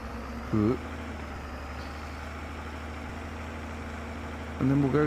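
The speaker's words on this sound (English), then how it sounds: "Once the tractor decides to put itself in gear." A tractor engine in the Farming Simulator video game holds a low, steady mechanical drone throughout. A voice briefly speaks over it at the start and again at the end.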